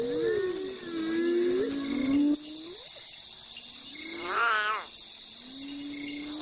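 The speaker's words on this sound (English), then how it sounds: "The plaintive cries of the abandoned lion cub echo through the night." An abandoned lion cub cries at night, a series of plaintive wavering calls with one higher quavering wail, set over a steady background of night insects.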